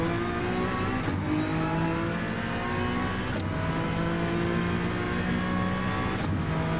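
A GT3 race car engine in Gran Turismo 7, revving steadily with gear changes roughly every two to three seconds, loud and continuous with no talk.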